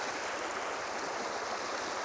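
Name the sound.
river water flowing at a bike crossing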